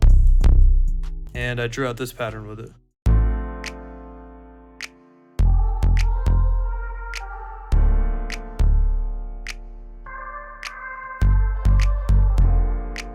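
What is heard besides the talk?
Moog bass pattern in FL Studio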